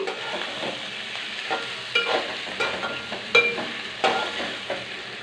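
A spoon stirs a potato and egg curry with curry leaves frying in a pan, producing repeated scraping strokes over a soft ongoing sizzle, close and moderately loud.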